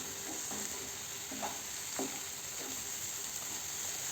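Egg bhurji sizzles quietly in a frying pan while a spatula stirs it, leaving a few soft scraping strokes over a steady high frying hiss.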